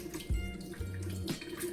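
Boiled potatoes drained for mash, with their cooking water pouring and splashing into a sink in a steady liquid rush, nearby and moderately loud, with no talking.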